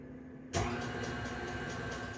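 Electric stand mixer starts abruptly and runs steadily, mixing M&M cookie dough in a bowl, a continuous mid-level motor whir with no talking.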